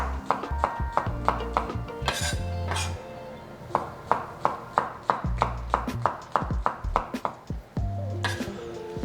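Knife chopping a full pack of mushrooms thin on a cutting board for a one-pan dish, a quick rhythmic series of close, sharp taps in bursts with short pauses between runs.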